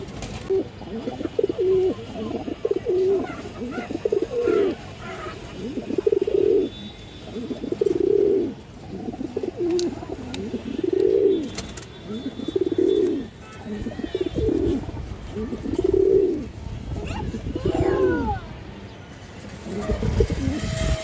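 Khaki pigeons coo in a steady series of soft, rounded calls repeating about every second and a half, close and clear over a quiet background.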